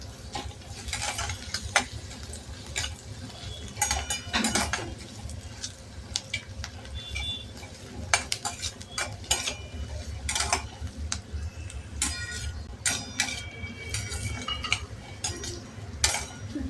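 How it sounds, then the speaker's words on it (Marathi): Onion is sautéed in homemade ghee with a dried red chilli for vegetable upma. A steady sizzle runs under frequent clinks and scrapes of a spoon stirring against the pan, close and busy throughout. "कांदा परतून घ्यायचा आहे"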